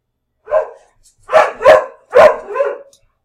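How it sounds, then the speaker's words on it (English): A dog barks several times in the background indoors, four or five sharp, fairly loud barks in two short bursts, with no other sound between them. "you hear my dog in the background barking"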